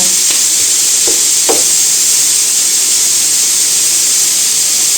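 Sliced potatoes and squash sautéing gently in a pan for a potato and squash tart, a constant even hiss of frying close up, with a couple of faint utensil taps early on and no voices.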